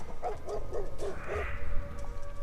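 A dog gives a quick run of five yelping barks in a Resident Evil movie trailer, followed by a whine and a rumbling low backdrop.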